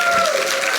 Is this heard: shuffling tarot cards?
no